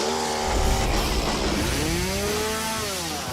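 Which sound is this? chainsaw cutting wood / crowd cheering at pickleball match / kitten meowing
chainsaw cutting wood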